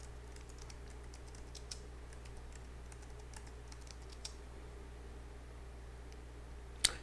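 Steady keystrokes on a computer keyboard with its backlight switched off, soft scattered clicks over a constant low hum, with one sharper louder tap near the end.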